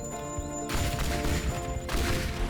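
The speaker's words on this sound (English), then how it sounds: "A few more explosions should do it." Explosions in the video game Teardown bring down a mansion, with a dense, continuous run of booming blasts and crashing rubble that surges loudly twice in a few seconds.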